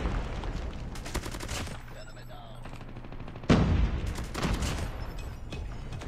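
Rapid automatic gunfire in the Call of Duty Mobile video game, fast bursts of close shots, a pause, then a heavy blast and more firing, with a voice talking briefly underneath.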